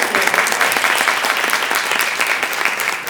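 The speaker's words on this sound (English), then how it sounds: "Let's give another round of applause for Malinda Williams and our visionary, LaToya Bennett." Audience applause fills a room at the Motivated Moms Retreat 2019 interview event: a dense, steady wash of many hands clapping close by, sustained at even loudness throughout.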